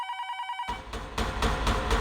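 A telephone rings in a police-drama scene: an electronic ring tone sounds for about half a second and then cuts off, giving way to a louder burst of mixed background noise.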